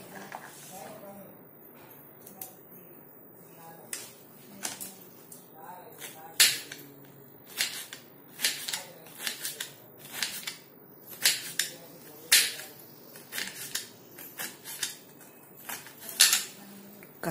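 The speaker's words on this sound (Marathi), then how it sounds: "आता याचे छोटे छोटे काप करून घेऊया" A knife chops small, washed green spiny gourds (kantola) into small pieces on a board, giving close, irregular sharp cuts that quicken into a steady run of knocks.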